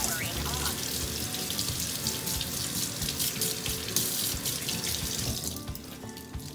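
Tap water running into a sink while makeup brushes are rinsed clean, a loud, continuous rushing splash that changes briefly toward the end, heard close up without talk.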